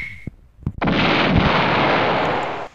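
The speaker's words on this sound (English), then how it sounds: "Whoa, that was a big explosion." A big explosion in a video game erupts as one loud, sustained roaring blast that holds for nearly two seconds and then cuts off abruptly, following a few short pops.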